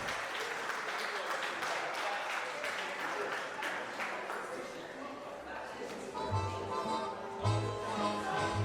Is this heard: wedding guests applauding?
yes